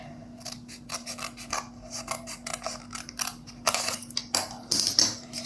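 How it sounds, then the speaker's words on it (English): Scissors snip through folded paper in a quick run of short, crisp cuts, growing louder and sharper toward the end over a steady low background hum. "Just fold it one more time like that. And then you can cut it."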